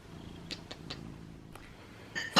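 A house cat purrs softly up close, a low continuous rumble dotted with a few small clicks and rustles, ending in a brief louder burst of movement.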